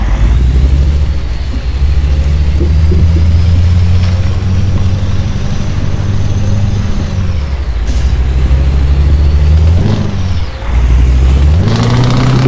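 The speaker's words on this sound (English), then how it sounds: "You can hear how it roars in a characteristic V8 way." Scania V8 Euro 6 truck engine in a driving simulator, a deep, loud low-pitched roar that holds steady, dips briefly with gear changes, and climbs again in pitch as it revs up, with no talking.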